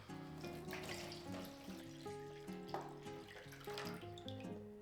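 Water pours into a paint pan holding a primer mix during a bathroom wall makeover, a close continuous tap-like stream whose pitch rises in clear steps as the pan fills.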